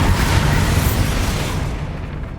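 A Bombarda blast spell goes off in the video game Hogwarts Legacy: a loud, rumbling explosion that booms and then tapers off over a couple of seconds, with no voices.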